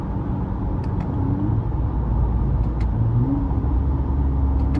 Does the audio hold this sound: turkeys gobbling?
no